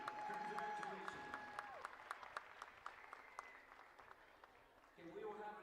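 Crowd applause in a high school gym at a girls varsity basketball game, honoring the senior players: scattered, fairly faint claps under a voice on the public address and crowd murmur.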